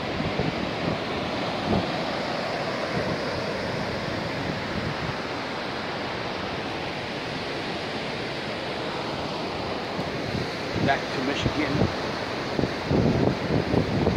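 Ocean surf rolls onto Daytona Beach, Florida in the early morning, a steady broadband wash of breaking waves with wind buffeting the microphone, growing rougher and gustier toward the end, with no voices.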